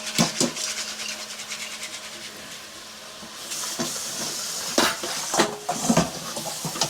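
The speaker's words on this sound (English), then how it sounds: "Wash our beans." Water runs and splashes over black beans in a bowl or pot, with a steady hissing rush and a few sharper clinks and sloshes toward the end, close by, no voices.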